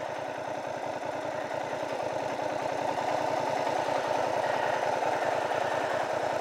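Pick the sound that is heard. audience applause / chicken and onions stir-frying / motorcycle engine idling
motorcycle engine idling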